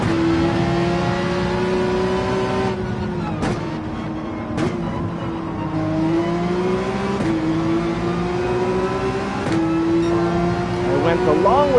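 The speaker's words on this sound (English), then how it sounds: "Flat plane crank V8s make incredible, unique sounds, high revving engines." A Ferrari flat-plane crank V8 in Gran Turismo 7 revs high and holds a buzzing, steady engine note through several upshifts and drops in pitch, loud and continuous across the whole stretch.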